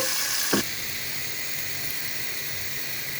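Spices with salt sautéing in a pan for a beef and potato curry, a steady close sizzle and hiss with a brief louder burst near the start, no talking.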